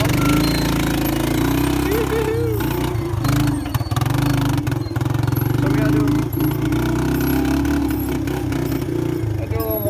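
A 1983 Suzuki LT125 engine runs loud and close with a rough, rapid throbbing putter that holds steady for the whole stretch, with brief dips and faint voices beneath it.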